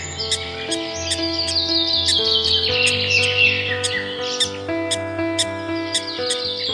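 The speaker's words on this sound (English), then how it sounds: "he stumbled upon a lost little bird who was crying for help" A lost little bird chirps and tweets in a forest, a busy run of bright calls over sustained musical tones, loud and continuous.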